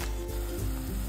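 Sprouted mung beans and matki tipped into a hot pan and stirred, giving a close, steady sizzle with soft scraping and a few light thumps of the spoon.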